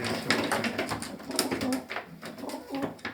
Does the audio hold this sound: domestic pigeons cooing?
yes